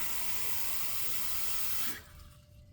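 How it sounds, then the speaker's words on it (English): Water runs steadily from a tap into a cup to soak a shaving brush, a loud continuous rushing pour that stops abruptly near the end, leaving quiet room noise. "I'm gonna soak that brush for a second"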